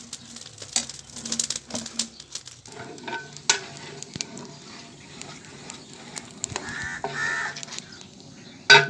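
Biryani rice and masala cooking in a large pot over a strong fire, with stirring scrapes and a steady sizzle; crows caw now and then in the background.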